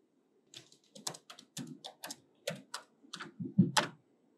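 Password entered on a computer keyboard in a Kali Linux terminal, a quick run of distinct, close key clicks in an irregular rhythm against near silence.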